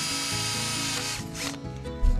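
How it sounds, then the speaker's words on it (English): A power drill bores holes into the tops of plastic pipes, a continuous whining motor drone with shifting pitch as the bit cuts, loud and close with no talk. "drill a bunch of holes in the tops of these two pipes"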